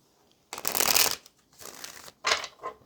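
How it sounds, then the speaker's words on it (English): Cards riffle-shuffled up close in three quick bursts, a long crisp flutter first, then two shorter ones, with brief quiet between. "let's get one more good shuffle"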